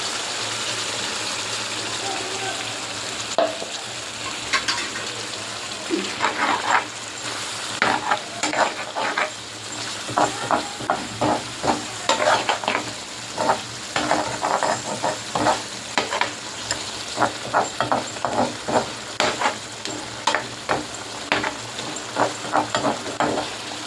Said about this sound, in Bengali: ভালো করে কষিয়ে নিতে হবে